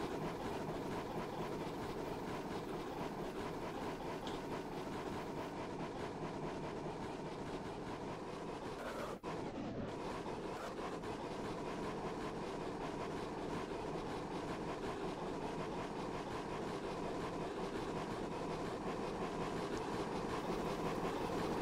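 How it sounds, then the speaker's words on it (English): A simulated model train in the game Train Simulator 2016 rumbles steadily along its track for the whole stretch, a continuous mechanical whir with no voices. "Just let that train run around for a minute, just to prove it does."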